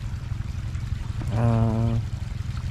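Water pours and gurgles steadily into a field, a constant rushing flow with a brief low humming tone rising over it midway.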